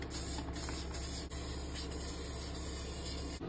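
An aerosol spray can applies a second coat of paint to RC crawler parts in a steady, close hiss lasting the whole stretch, with only a couple of brief pauses.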